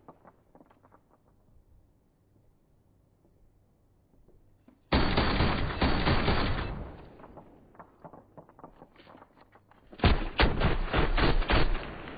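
Video game gunfire comes in two loud, dense bursts of rapid shots, set apart by a quieter stretch of scattered pops and thuds, after a faint, low opening with no speech.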